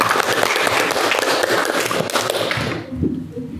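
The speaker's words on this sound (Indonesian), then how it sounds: "Tepuk tangan untuk semuanya." A school class applauds in a dense burst of many hands clapping up close, the sound tapering off and fading out near the end.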